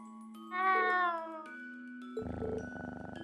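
Cat meowing in the video game Trails of Cold Steel: one drawn-out, tonal meow rises clearly over a steady game tone, followed by a jingling, tinkling chime passage.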